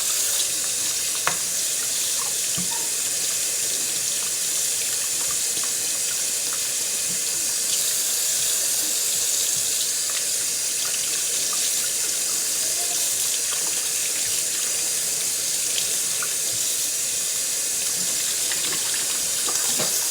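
Tap water runs steadily over pork neckbones being rinsed in a sink, a continuous close hissing splash with faint clinks, no talking.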